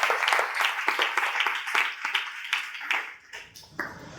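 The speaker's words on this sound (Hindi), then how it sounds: "जोरदार ताली बजा के प्रभु को धन्यवाद दीजिए।" A church congregation at an annual convention in Bhachau claps together in a loud, rhythmic burst of applause that gradually thins and fades toward the end.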